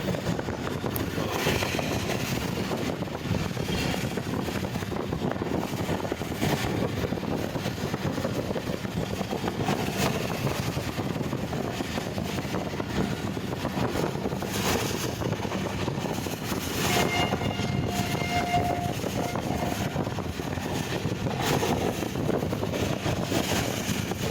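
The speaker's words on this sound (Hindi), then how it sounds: "रेलगाड़ी स्पीड में जा रही है, झटके मार रही है" The Musa Pak Express passenger train runs at speed between Khanewal and Lahore, making a loud, continuous rumbling roar from inside the carriage with jolts and rattles and occasional faint squeals.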